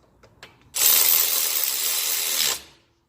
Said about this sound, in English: So just put the Loctite on it. Thread it in. Electric ratchet just makes it quicker.